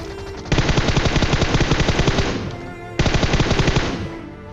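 Enemy gunfire in a battle royale video game: two loud, rapid bursts of automatic fire, the second starting after a brief pause, with no talking.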